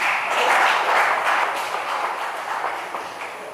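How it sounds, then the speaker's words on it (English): Steady, moderately loud applause from a seated audience at a club convention fills the space, many hands clapping in a dense, even patter that gradually eases off. "I urge you again to give me a round of applause"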